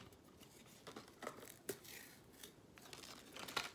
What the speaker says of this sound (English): I'm going to peel off these stars